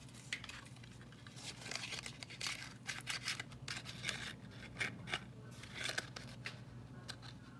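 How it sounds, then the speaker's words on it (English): Paper torn by hand while making a Valentine's Day card, a quiet series of short rips and crinkles in an irregular rhythm, close by with no talking. "I'll tear off a little bit of the bottom piece here so that my heart fits into my punch"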